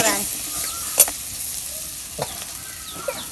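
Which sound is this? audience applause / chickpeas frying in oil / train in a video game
chickpeas frying in oil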